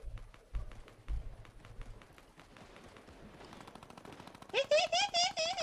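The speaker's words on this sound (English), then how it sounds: "You and that minigun, I can't." Minigun firing in a video game, a rapid rattling burst of shots building up near the end, loud and close, after scattered quieter taps.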